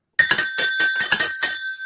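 A bright bell rings in a quick series of about seven sharp, evenly spaced strikes, loud and close, with nothing else audible.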